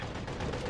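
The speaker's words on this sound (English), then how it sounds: "Switching mags." A gun magazine being swapped during a reload in Call of Duty, a quick burst of close, metallic clacking and ratcheting lasting under a second.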